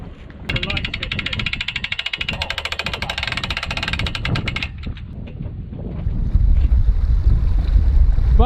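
A tiny speedboat setting off on a windy day, with engine and water noise under strong wind buffeting the microphone, loud and continuous, a rapid rattling pulse early on, then a heavier low rumble as it gets under way.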